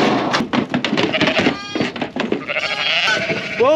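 Ewes and lambs packed into a loaded livestock trailer bleat loudly and repeatedly, overlapping calls close by, with some light knocking and movement in the trailer.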